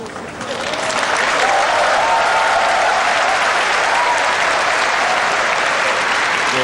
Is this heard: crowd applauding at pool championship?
yes